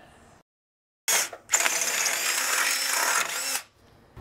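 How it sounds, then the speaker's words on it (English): A power drill whirs in a short burst, then runs steadily for about two seconds before stopping, close and fairly loud in a quiet setting, drilling a hole for a rear bumper install on a Lexus GX470. "that should allow you plenty of room to drill that hole"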